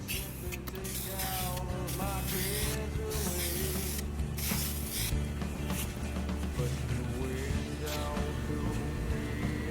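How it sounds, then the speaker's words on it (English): A steady, continuous hiss of chrome spray paint being sprayed onto car engine parts, close and fairly loud, with occasional brief pauses in the spray. "we're putting on a couple of coats of chrome spray paint"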